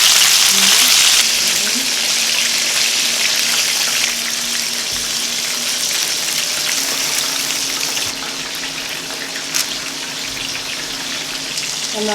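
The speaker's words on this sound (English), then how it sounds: "The chicken has been frying for about 16 minutes." Buttermilk-battered chicken deep-frying in a pot of hot oil after about sixteen minutes, a steady bright crackling sizzle that runs throughout at close range with no talk, easing slightly toward the end.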